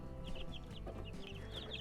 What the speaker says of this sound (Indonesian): Ini ayamnya sehat-sehat semua